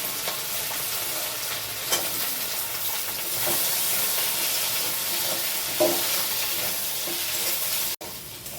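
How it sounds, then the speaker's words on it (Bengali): Potato, carrot and sweet potato frying in oil, a steady close sizzle with brief louder pops and stirring scrapes throughout, cutting out near the end. "প্রথমে ভেজে নিচ্ছি। দিয়ে দিচ্ছি আলু, দিচ্ছি গাজর, আর দিচ্ছি মিষ্টি আলু।"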